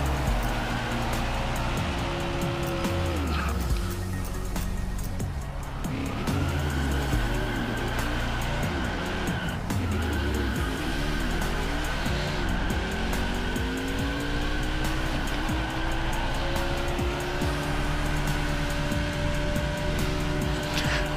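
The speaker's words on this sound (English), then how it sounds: "doing a burnout right on that NASCAR Cup Series logo" A NASCAR Cup Series stock car in NASCAR Heat 5 holds a sustained, loud burnout on a victory logo, its engine roaring steadily while tire squeal rises and falls continuously for the full length without a break.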